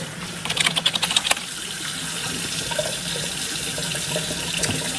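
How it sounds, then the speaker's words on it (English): Running water from a sink tap splashes steadily while an item is rinsed after removing skincare residue, with a burst of brisk clattering splashes early on before settling into a continuous close hiss. "So we're gonna rinse that off."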